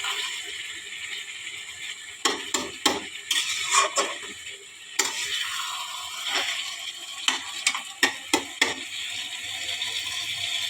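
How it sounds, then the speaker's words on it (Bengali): Eggplant and taro being stirred in a pan, with scattered clinks and scrapes of a utensil against the metal, some in quick clusters, over a quiet low background hiss. "বেগু আর কচু দিয়ে দিলাম এখন কষাও"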